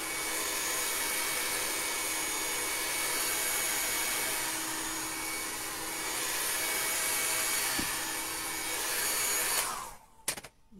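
Dryer blowing a steady, loud stream of air onto a freshly painted craft piece, a photo holder, running continuously for nearly ten seconds before switching off.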